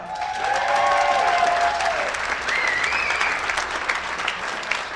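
An audience breaks into sustained applause with a few whoops and cheers rising over the clapping, which then gradually tapers.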